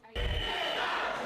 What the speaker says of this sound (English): They're just chanting, "Liar, liar."